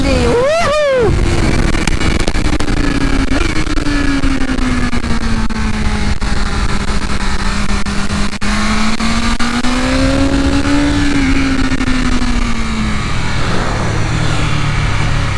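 BMW S1000RR M Package superbike accelerating hard on the Interlagos circuit, its high-revving engine screaming with sharp quick-shifter gear changes and rising pitch sweeps, loud and continuous from an onboard position.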